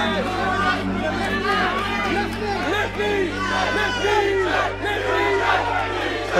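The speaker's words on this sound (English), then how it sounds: "the whole crowd is continually yelling out, PJ, PJ. PJ." Dense MMA arena crowd roaring and yelling a fighter's name, PJ, in loud overlapping waves of shouts and cheers that fill the space continuously.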